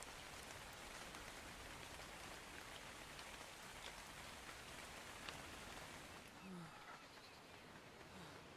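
Rain in the video game Ark falls steadily on a jungle setting, a dense, constant hiss of droplets that continues unbroken throughout at a low, even level.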